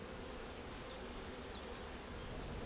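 Honey bees hum at an open hive, making a steady, dense, faint buzz that fills the air without breaks while combs are handled nearby; no one speaks.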